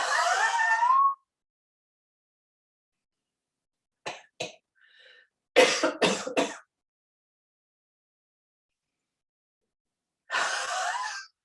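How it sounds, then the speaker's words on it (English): Coughing brought on by a forced exhale during a yoga breathing exercise in a beginner class: an opening breathy burst, then a few short coughs, a cluster of sharp coughs, silence, and a final rough exhale. "Make sure that forced exhale, makes you cough."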